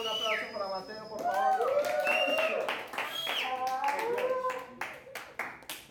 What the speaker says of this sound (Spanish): Y un fuertísimo aplauso para ustedes